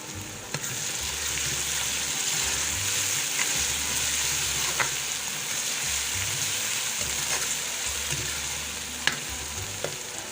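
Green chili paste goes into sizzling beef karahi, producing a loud, steady frying hiss with scraping stirs and occasional pops over a low, pulsing background hum.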